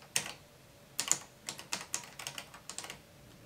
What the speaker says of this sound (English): Oh yes, a typewriter.